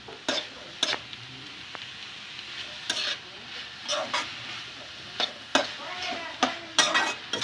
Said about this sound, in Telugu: దీన్ని బాగా కలుపుతాం.